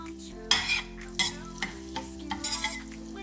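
Butter in a hot pan, being made ready for a home-style fried chicken drumstick. Short bursts of sizzle and stirring scrapes come in uneven strokes, close and clear, with no talking.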